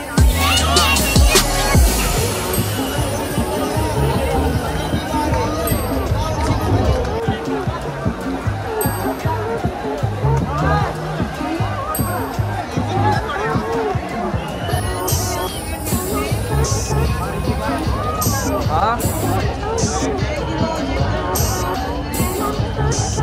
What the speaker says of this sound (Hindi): हाँ भाई बहुत ज्यादा भीड़ हो गई